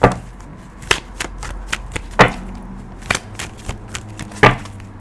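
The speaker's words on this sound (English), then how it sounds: "I'm talking while I'm shuffling, just getting the cards ready" Tarot cards being shuffled by hand, a series of crisp riffling bursts and soft flicks at irregular intervals, close and fairly loud, with no talking.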